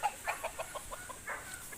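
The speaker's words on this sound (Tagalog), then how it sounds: "kung makikita nyo, ayun mga manok oh. Dami oh." Chickens with fine scales and combs cluck in a steady rhythmic series of short calls, fairly faint and close, with no talk over them.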